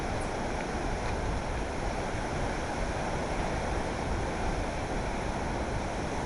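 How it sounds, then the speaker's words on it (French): Strong gusts from Cyclone Gamede roar through the trees, and a ficus and a grevillea bend in a continuous loud rush of wind with heavy buffeting on the microphone and no speech. "Le grevillea plie sous les rafales."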